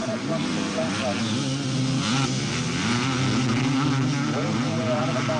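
Motocross motorcycles racing at the British Motocross Championship at Fox Hills, engines droning and revving continuously at a distance, with a commentator talking over the steady roar throughout.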